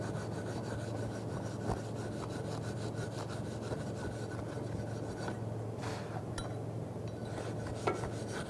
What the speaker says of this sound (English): You have to clean by using this wire brush to cleaning it very well, so that this rust it can't affect our